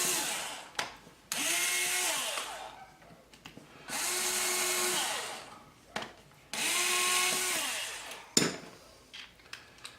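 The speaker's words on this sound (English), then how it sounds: "we're going to drill our pilot hole" A power drill with a 1/16 inch bit bores pilot holes in a quadcopter frame, three sustained whining bursts of about two seconds each separated by pauses, with a sharp click near the end.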